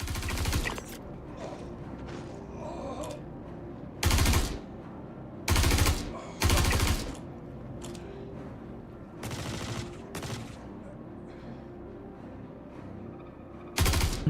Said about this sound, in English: I'm just shooting at the marker.